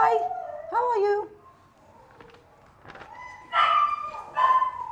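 Schnauzer dogs in a kennel give several short whimpering howls and yips, with a louder, drawn-out howling burst near the end, alternating with quiet pauses.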